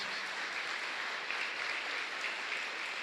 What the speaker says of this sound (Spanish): Fuerte aplauso para el Señor entonces